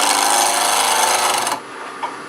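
A woodturning tool on a lathe shaves small chunks from a multi-axis twig pot, giving a steady, loud, rough scraping whir that stops abruptly partway through, leaving quieter background sound.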